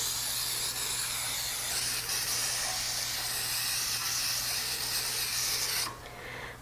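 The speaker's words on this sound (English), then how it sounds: "So what I'm going to do is take some cooking spray." Cooking spray containing flour hissing from an aerosol can into 8.5 by 4.5 inch loaf pans, one steady close spray lasting about six seconds before it cuts off.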